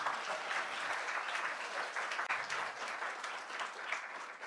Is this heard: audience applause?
yes